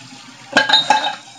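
A container of lavender frosting is lowered into water in a kitchen, giving a quick burst of close splashing and gurgling that fades after about half a second.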